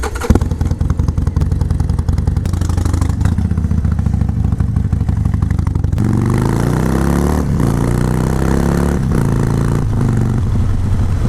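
A Harley-Davidson Sportster 72 motorcycle engine runs loud and close, a steady rumbling drone that shifts into a rising revving tone midway, like pulling away and accelerating.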